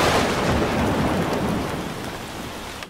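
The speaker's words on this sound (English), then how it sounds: "Thunderstorm. Shit, it's raining." Heavy rain pours steadily in a thunderstorm, a dense, loud hiss of downpour with rumbling thunder underneath, continuous for about three seconds before cutting off abruptly.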